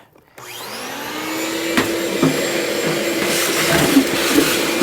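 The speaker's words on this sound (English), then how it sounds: "I really should have waited to vacuum until after I got done with this" A vacuum cleaner starts up in a garage workshop and runs continuously with a steady loud whine and roar, a few faint knocks and bumps as it is moved.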